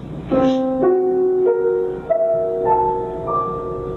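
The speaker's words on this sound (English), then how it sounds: "Scriabin was noted for his famous mystic chord" A sustained piano chord, Scriabin's mystic chord, builds up note by note, each new tone entering at a steady pace and ringing together into a shimmering, unresolved harmony.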